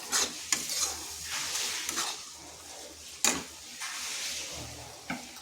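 Potatoes and cauliflower being stirred in an uncovered pan to dry them out, a moderate sizzle broken by sharp clacks and scrapes of a spoon against the pan.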